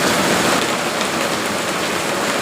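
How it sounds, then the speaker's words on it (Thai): Heavy storm rain falls hard and without pause, a loud, thick, even roar of drops hitting nearby surfaces, with nothing else standing out. "โอ้ฝนตกหนักพี่น้อง"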